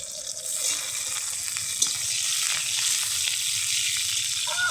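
Onion, green chili and ground spice paste fry in hot oil with a steady, close, loud sizzle that fills the whole stretch, with a faint clink or stir near the end and no talking.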